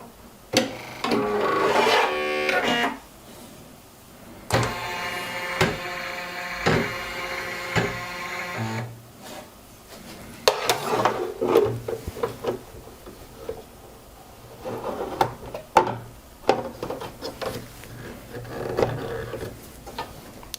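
A Pfaff Creative 1.5 embroidery machine with a 3D-printed magnetic hoop runs, giving a steady mechanical rhythmic whir and clatter with stops and starts, close and moderately loud, with no talking.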